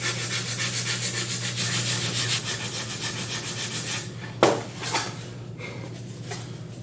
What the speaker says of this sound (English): put the wing right at the edge of the sanding board, and I just begin sanding in this fashion